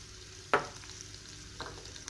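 Shrimp and mushroom filling stirred in a frying pan, with one sharp scrape of the utensil followed by a softer second stir over a faint, steady low sizzle.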